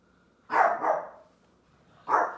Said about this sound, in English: my dog literally barks at everything